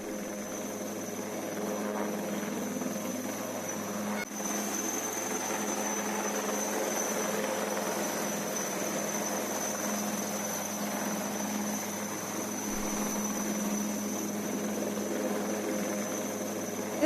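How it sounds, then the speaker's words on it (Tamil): A rescue helicopter flies over flood-stricken Nellai after heavy rain, its rotor and engine giving a steady, unbroken droning whir for the full stretch at a moderate distance, with no voices. "நெல்லையில் கனமழையால் பாதிக்கப்பட்ட மக்கள் ஹெலிகாப்டர் மூலமாக மீட்கப்பட்டு வருகிறார்கள்"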